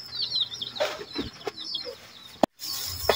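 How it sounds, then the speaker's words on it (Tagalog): Week-old chicks and hens in a brooder peep and cluck in a steady, fairly close chorus, with scattered clucks, a brief sharp knock and a short gap of silence near the end. "Mayroon tayong binobrod ng mga sisiw na mag 1 linggo na."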